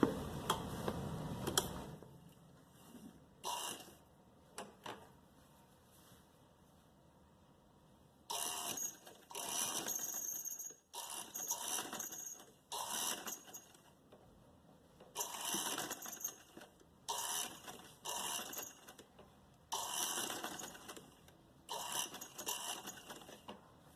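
A sewing machine stitches lace onto the neckline of a kurti, running in several short bursts of quick, even ticking and whirring with quiet pauses between them.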